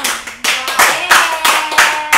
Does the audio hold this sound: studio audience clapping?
yes